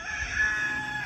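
Chickens in a backyard coop give a drawn-out crow-like call over a steady farmyard hum, moderately close and with no one talking.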